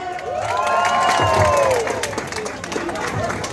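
An audience claps and cheers at a gathering, with voices shouting and a tonal whoop or call rising over the crowd, loud and close, then fading into quieter chatter.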